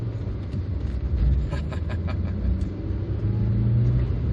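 A 2006 MG ZT 160 car accelerating, a loud steady engine rumble heard from inside with the drone rising and falling under load and faint turbo whoosh, no talking.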